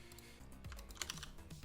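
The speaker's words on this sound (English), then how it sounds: "I like your keyboard sound." Mechanical computer keyboard typing, a quick run of close clicky keystrokes over a low steady hum, moderately quiet.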